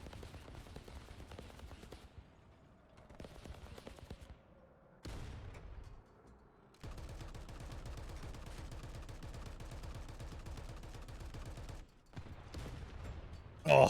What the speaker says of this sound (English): Let's do an artillery strike over there.